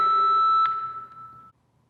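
A workout timer gives a steady electronic tone during an at-home exercise session, holding clear and close for about a second and a half before cutting off into near silence.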